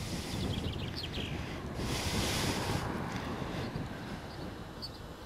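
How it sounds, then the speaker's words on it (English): Steady, broad wind rush and microphone buffeting while cycling into a breeze near Rutland Water, a continuous roar that swells midway and then settles, with no voices. "We're cycling into the breeze now. It's not really a wind, it's just a breeze."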